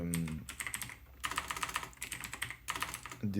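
A Windows keyboard shortcut typed on a computer keyboard: bursts of quick, crisp key clicks in several clusters with short pauses, close up and without talk.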